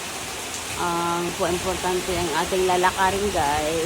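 Heavy rain driven by strong wind makes a steady, loud hiss that runs through the whole stretch while someone talks over it.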